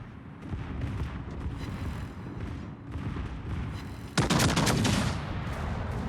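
Battleship broadside gunfire in a naval video game battle, a continuous rumble of distant booms followed by a sudden loud, close barrage near the end.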